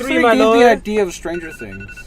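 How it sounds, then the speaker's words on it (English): A phone's musical ringtone plays over lively conversation, its tones sounding briefly and mixing with the voices. "Oh, that's my phone."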